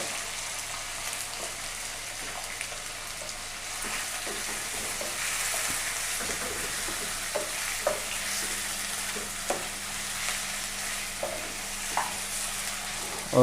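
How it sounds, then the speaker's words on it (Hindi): Beef pieces stirred and fried in masala for a pulao, a continuous close sizzle broken by repeated spoon scrapes and knocks against the pot. "बीफ का गोश्त इसको ऐड कर देते हैं।"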